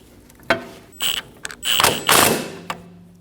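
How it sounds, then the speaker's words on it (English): Bolt being snugged down with a wrench on a rear control arm of a Volkswagen Passat, a few close metallic clicks, thunks and ratcheting scrapes in quick bursts. "Once we have it set, we can snug the bolt down in its position."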